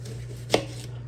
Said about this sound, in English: Gonna finish chopping up the onion